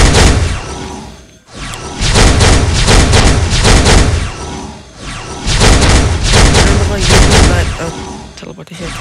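Loki's teleportation attack skill in a video game, a loud dense barrage of booming, crackling impacts in two long bursts with a short lull between, a voice talking underneath.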